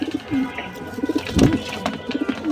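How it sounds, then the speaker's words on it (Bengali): Deep blue Jabra pigeons coo close by, with several soft, low, rolling coos and light rustling over a couple of seconds. "এগুলো একদম ডিপ ব্লু জাবরা পাখি কবুতর"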